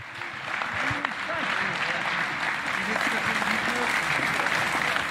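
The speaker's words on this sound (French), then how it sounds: "je vous demande d'applaudir Monsieur Pierre Bédier" A large audience at a political meeting in the Yvelines gives Pierre Bédier, president of the departmental council, sustained dense applause. Voices murmur and call out over the clapping, which stays steady from start to finish.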